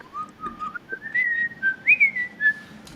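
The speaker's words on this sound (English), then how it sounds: "you actually can whistle that well" A person whistles a melodic tune solo, the clear wavering notes sliding and rising in short phrases, close and fairly loud over a faint low background hum.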